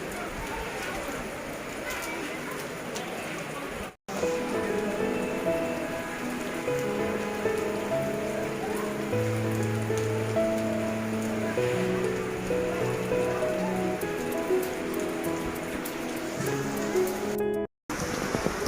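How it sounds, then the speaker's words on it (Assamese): Heavy rain pours down at a temple, a dense, steady hiss of drops on surfaces running throughout with voices talking over it. "মন্দিৰ আহি পোৱাৰ লগে লগে বৰষুণ দিলে।"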